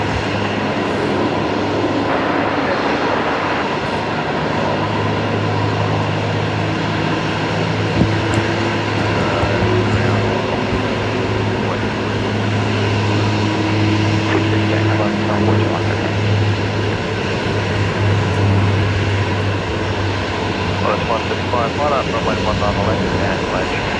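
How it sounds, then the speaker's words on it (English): A Dash 8 turboprop takes off from runway 19 left at Brisbane Airport, its engines a steady, distant drone that holds throughout while people talk over it. "And there goes the Dash 8 off of runway 19 left as well."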